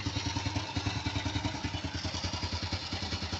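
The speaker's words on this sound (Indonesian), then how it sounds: "Nih suara idle guys." A Honda Supra X motorcycle engine idles nearby, a steady, even low chug with a slightly clattery pulse and no revving.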